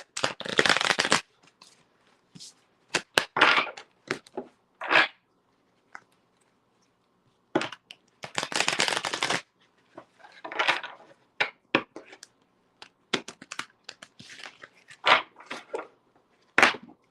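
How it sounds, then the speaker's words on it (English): A deck of tarot cards shuffled during a live tarot reading: repeated crisp riffling bursts in uneven clusters, separated by short pauses, close to the microphone with no talk. "let me shuffle these cards one last time, just so we can have a fresh start"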